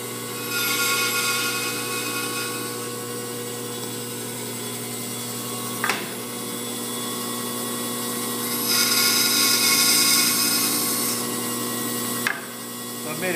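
A power tool's steady mechanical whine while making relief cuts, close and loud, with two brief dips or catches as the cut progresses.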